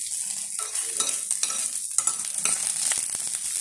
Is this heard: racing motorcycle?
no